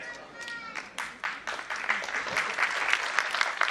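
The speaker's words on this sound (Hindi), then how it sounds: "देखो, ताली अगर बजाई तो ढंग से बजाना।" An audience at a motivational speech breaks into uneven clapping that builds from sparse claps into fuller applause, heard somewhat distant, with voices mixed in.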